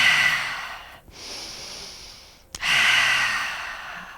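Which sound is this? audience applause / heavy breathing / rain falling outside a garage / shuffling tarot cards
heavy breathing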